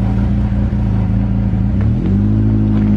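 A Volkswagen engine that will not rev past 3000 RPM runs loud and close with a steady low rumble, then rises in pitch as it revs up partway through and holds at the higher speed.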